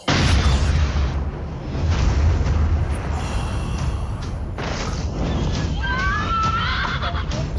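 A horse in the Attack on Titan anime gives a loud, close whinny, set in a dense, rumbling action soundtrack with booms and bursts. A rising squeal follows near the end.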